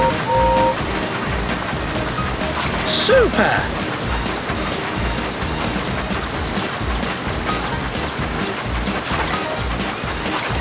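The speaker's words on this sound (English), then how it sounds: "Your engine avoid the rocks in the wild water slide at Water Slide Mountain." A wild water slide at Water Slide Mountain in the Thomas and Friends: Magical Tracks video game gives a continuous rushing, sloshing wash, with a cheerful game chime and a voice speaking briefly over it.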